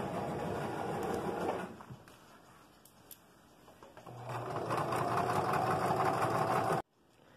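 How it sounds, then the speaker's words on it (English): A sewing machine stitches a fabric tube for scrunchies, running in a close steady whir, pausing for a couple of seconds, then running longer before stopping abruptly. "Just kind of sewing a tube of the fabric."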